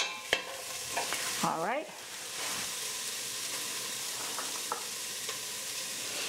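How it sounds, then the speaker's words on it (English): Aromatics fry with red curry paste in a pot for Thai red curry with shrimp, giving a steady soft sizzle with a few stirring scrapes and a brief clink near the start, while a voice speaks a couple of words. "let them fry up a little bit with the curry paste"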